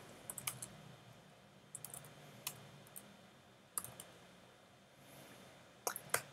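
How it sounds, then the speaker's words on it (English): Sparse computer keyboard keystrokes used to teleoperate a robot, a few isolated clicks and short clusters of taps spread out over a quiet background hum, with no talking. "using the keyboard teleop."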